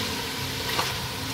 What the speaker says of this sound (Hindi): अच्छे से फिर एक बार इसकी करते हैं भुनाई